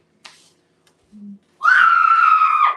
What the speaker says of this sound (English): She likes to scream.